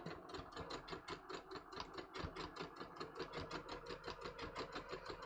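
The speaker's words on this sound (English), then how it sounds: "I'm going to stitch for a little bit." A sewing machine stitches a blind hem in a quick, rapid, regular run of mechanical clatter, close and steady, with no talking.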